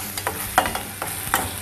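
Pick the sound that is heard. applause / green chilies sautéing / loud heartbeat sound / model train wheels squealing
green chilies sautéing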